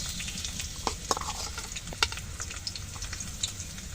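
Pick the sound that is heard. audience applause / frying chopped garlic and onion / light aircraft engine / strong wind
frying chopped garlic and onion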